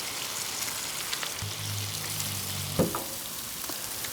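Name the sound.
sausage patties frying on a Blackstone camp griddle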